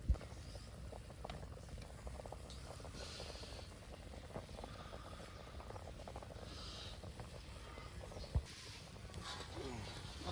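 Mutton simmering in a pot over an outdoor wood fire, a faint, continuous low bubbling with soft crackles and occasional small pops.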